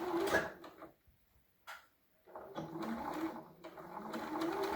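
A sewing machine stitches around the corner of a blouse, its motor running in short bursts with brief pauses between them, fairly close and moderately loud.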